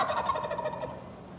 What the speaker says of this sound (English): It's really cool to see the steam backlit in the sunlight shoot out when that big boy gobbles.